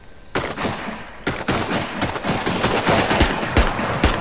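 Automatic gunfire in a tactical shooter video game, several bursts of rapid shots after a quiet start, loud and close, with a few sharper single cracks near the end and no talk.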